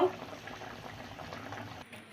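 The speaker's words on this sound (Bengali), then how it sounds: "দেখো আমার ঝোলটা কি সুন্দর টক পকিয়ে ফুটছে" Tilapia fish curry bubbles and simmers in a pot, a soft, steady boiling burble heard close for a couple of seconds.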